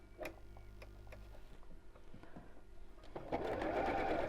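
Domestic sewing machine stitching a cushion seam with back stitches and a longer stitch, giving short ticking bursts and brief runs that build into a louder continuous whirr near the end, close and clear.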